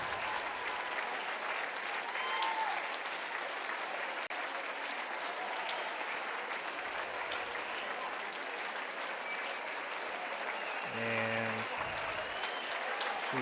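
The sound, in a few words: crowd cheering and applauding at girls swimming state finals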